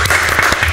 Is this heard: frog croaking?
no